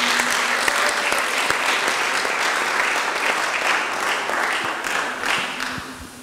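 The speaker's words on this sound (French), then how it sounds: "On applaudit encore une fois pour eux." A church congregation at an official opening service in Stockholm claps for several seconds, a dense, even round of applause with scattered sharper individual claps standing out.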